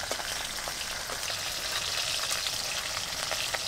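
Cauliflower fries in a pan with a dense, steady hiss and crackle of hot oil, close and continuous throughout, with no voices.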